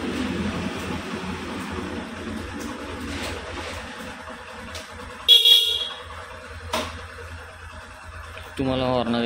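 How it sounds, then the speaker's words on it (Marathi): A Bajaj Platina motorcycle horn sounds in short honks over steady outdoor engine idle and street noise, with one brief burst midway and another honk near the end. "तुम्हाला हॉर्न देत आहे मित्रांनो,"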